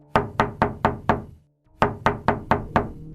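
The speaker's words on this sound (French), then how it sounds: "La voisine continue de frapper à la porte." Someone raps on a door in two bursts of five sharp, evenly spaced knocks with a short pause between, close and fairly loud, with no voices.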